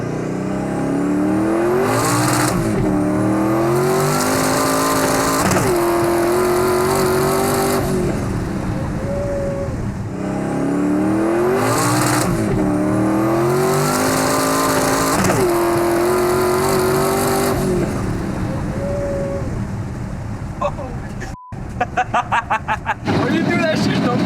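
A 1200 whp Hyundai Genesis coupe accelerating hard on boost, engine screaming through repeated rising pulls with shifts between gears, very loud and close, ending in sharp popping crackles.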